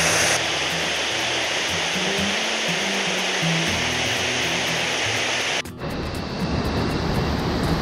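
Waterfall plunging into a round plunge pool in Itajiki gorge, a steady loud broadband roar of falling water close by, continuous for most of the stretch before an abrupt cut to a slightly different rushing tone.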